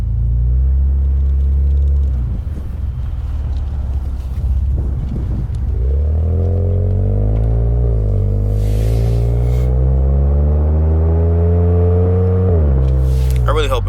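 A Ford Fusion Sport with an MRT V2 exhaust gives a deep rumble while driving, rising in pitch as it accelerates through gears, loud and continuous.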